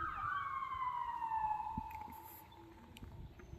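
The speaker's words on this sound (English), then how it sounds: "I saw an ambulance." An ambulance siren sweeps past nearby in a loud, falling wail that fades as it moves away, with traffic rumble underneath.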